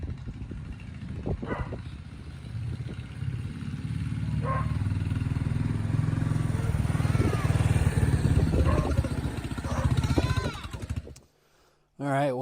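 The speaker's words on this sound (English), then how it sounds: "His free bike runs with just a carb clean." A motorcycle engine idles steadily after a carburetor cleaning, a low, close, continuous rumble with faint clatter on top before it cuts out briefly near the end.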